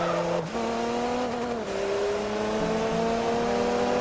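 A Toyota GR Yaris engine races in the video game Forza Motorsport, loud and steady with rising revs, several quick gear-change dips and a faint tire squeal, with no talk.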